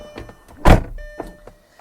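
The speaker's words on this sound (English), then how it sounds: "And we'll close the door." A Lamborghini Gallardo door, 2007 model, swings shut with one solid close-range thunk, preceded and followed by faint clicks and soft cabin noises.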